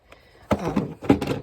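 A stuck drawer in a small library corner is yanked, giving a couple of hollow wooden thunks and rattles in two short bursts, close and fairly loud.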